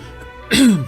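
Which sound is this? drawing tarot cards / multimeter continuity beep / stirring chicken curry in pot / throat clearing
throat clearing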